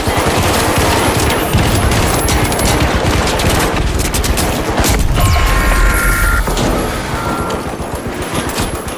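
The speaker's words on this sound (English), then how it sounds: "Frag grenade!" Loud, dense battle chaos in The Finals arena: a frag grenade blast booms amid continuous rapid gunfire, crashing debris and mechanical clatter, with a heavy low-end thump midway through.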